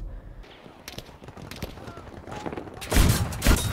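Gunfire from new guns in Battlefield 5's Pacific Theatre beach landing: scattered sharp shots crack at first, then a louder rapid burst of firing toward the end, amid battlefield noise.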